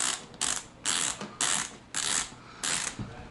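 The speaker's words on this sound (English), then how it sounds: "this is the toe part of my boot, and it's tightening it up now" A ratchet buckle tightens the toe strap on a snowboard boot. Six loud, close, clicking ratchet runs come in a steady rhythm with short pauses between them and no talking.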